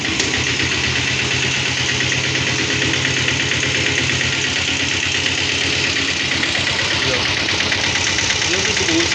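An old diesel Royal Enfield motorcycle idles after a kick start, its engine running with a steady, close, rapid low thumping that stays constant throughout.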